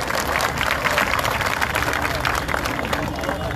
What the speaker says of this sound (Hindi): एक जोरदार तालियों के साथ ताई का इस्तकबाल करते हुए।